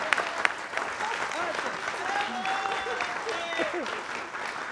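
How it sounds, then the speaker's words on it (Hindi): A studio audience at a Hindi political talk show claps in a steady, sustained round of applause, with a voice talking over it. "तो आप ताली ढंग की बजाया करो"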